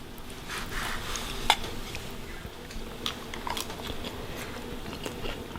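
Close, quiet chewing of egg with sauce and cabbage, with soft wet bites, a sharp clink of cutlery on a plate and light crunches in an uneven rhythm.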